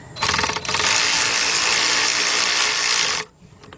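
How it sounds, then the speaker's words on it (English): Power tool loosening an alternator bolt on a Ford Focus: a loud, continuous buzzing whir, briefly interrupted after a fraction of a second and then running steadily for about three seconds before stopping abruptly. "this time I got my big bill ratchet"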